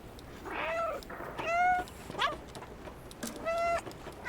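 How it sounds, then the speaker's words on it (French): A cat meows in the video game Stray, three or four distinct tonal meows spaced about a second apart, close and clear with brief gaps of quiet between them. "J'essaie de miauler, il me remarque pas."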